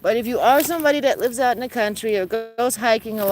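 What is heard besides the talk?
No everyday noise stands out behind the speech.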